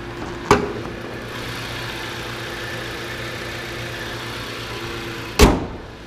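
A Jeep Patriot idles steadily with a low, even hum, close by. A car door thunks shut near the start and again near the end.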